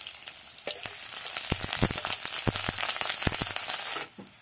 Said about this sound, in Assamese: পিঁয়াজখিনি অলপমান ভাজা গেলকৈ দিলোঁ